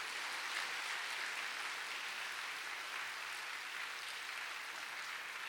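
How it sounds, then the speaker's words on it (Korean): A church congregation applauds during a special early-morning prayer service, a faint and steady wash of many hands clapping heard from some distance for several seconds. "한번 뜨거운 박수로 격려해 주세요."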